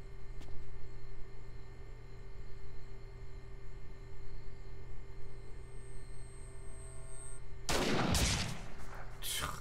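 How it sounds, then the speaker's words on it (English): A sudden burst of rapid video game gunfire near the end, loud and dense, after a long stretch of steady electronic hum and ambience, in Metal Gear Solid: The Twin Snakes. "He heard gunfire and did not even move."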